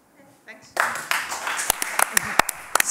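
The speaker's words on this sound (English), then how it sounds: "why are they clapping so strange? Because I asked them to" An audience clapping in an unusual rhythm taught by African farmers: sharp, irregular claps break out over a steady rumble of applause, with a few isolated loud claps standing out, close and lively.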